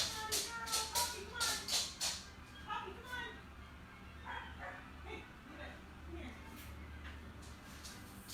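Small dogs barking and yipping indoors in quick excited bursts, loudest at the start and then trailing into scattered yaps and whines, with people talking over them.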